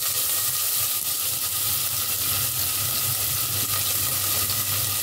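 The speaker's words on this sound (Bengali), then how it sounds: "তো এই তো প্রেশার কুকারে দিচ্ছি রান্না, আর সরিষার তেল দিয়ে বসাচ্ছি, তাই সরিষার তেল দিয়ে দিয়েছি। দিয়ে দিচ্ছি পেঁয়াজ কুচি" Chopped onion fries in mustard oil in a pressure cooker, giving a steady, close, continuous sizzle and hiss with faint scraping underneath.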